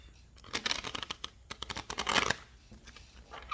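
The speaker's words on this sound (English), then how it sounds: "I'm still having a really hard time shuffling this deck" A tarot card deck is shuffled close by, with quick bursts of riffling and flicking cards in an uneven rhythm, with no voices.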